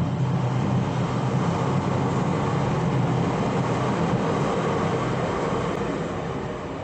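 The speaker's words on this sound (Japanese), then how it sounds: "電車がうるさいんで" A train rumbling past nearby in Kobe's Kita ward, a steady loud roar that holds constant and fades slightly at the end.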